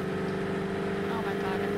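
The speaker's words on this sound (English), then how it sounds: "I hear motorcycle." A hover bike's motorcycle-like engine in the video game TABG drones steadily and loudly, a constant buzzing hum that holds throughout without change.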